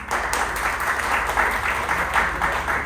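Audience at a political gathering clapping together in dense, sustained applause that swells and holds for a few seconds.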